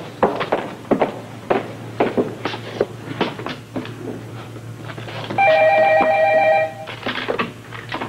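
A single close electronic telephone ring of about one second sounds partway through, between clunky footsteps and handling thumps in an indoor 1980s drama scene.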